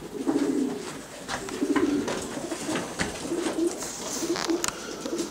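Pigeons coo repeatedly inside a loft holding nests with squeakers and eggs, low burbling calls rising in several bursts, close and fairly clear over a soft ambient background, with no talking.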